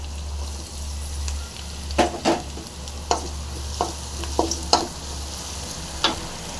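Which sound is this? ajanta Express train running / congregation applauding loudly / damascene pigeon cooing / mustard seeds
mustard seeds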